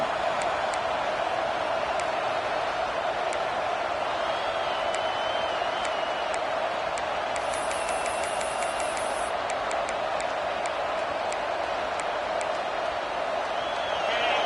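A dense, continuous roar of a large LSU football stadium crowd, voices blending into a steady wash of noise with no pauses.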